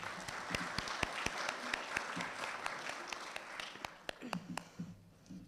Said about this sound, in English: Let's give them both a round of applause